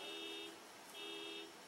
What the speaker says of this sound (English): Sounds like somebody's alarm's going off.